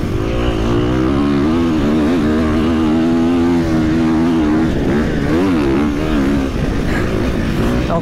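A motocross motorcycle rides through sand, its engine revving loudly and steadily with rising and falling pitch as the rider works the throttle, close and continuous with no talk.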